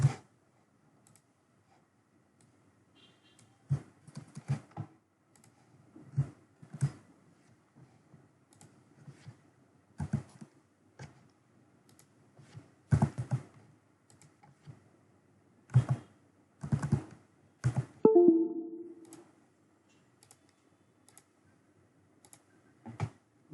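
An email address being typed on a computer keyboard in scattered bursts of crisp clicks separated by quiet pauses, fairly close and clear, with a brief tonal blip near the end.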